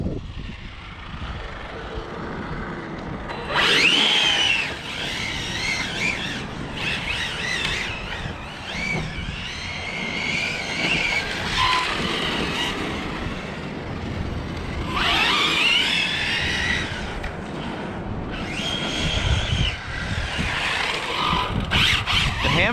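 An ARRMA Infraction RC car drives around, its electric motor whining up and down in repeated surges with bursts of tire squeal, fairly close and continuous.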